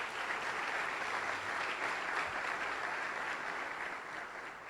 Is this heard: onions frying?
no